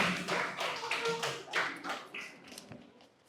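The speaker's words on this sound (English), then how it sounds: "Please give her a round of applause." Scattered applause from the audience at a primary school debate, uneven bursts of hand claps that fade toward the end, fairly quiet and mixed with some talking.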